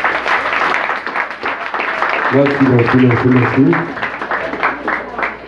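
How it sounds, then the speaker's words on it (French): An audience at a school competition applauds in a sustained, fairly loud burst, while a voice speaks briefly over the clapping. "Je vous demande de vous applaudir,"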